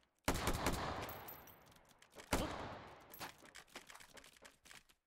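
Loud bursts of rapid gunfire in the VR game Hot Dogs, Horseshoes & Hand Grenades, two heavy volleys followed by scattered shots that fade, with no talking.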